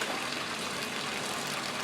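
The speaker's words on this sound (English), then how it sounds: "So water's going this way." Water in a home brewing setup flows with a soft, continuous gushing rush, faint and steady, with no talk over it.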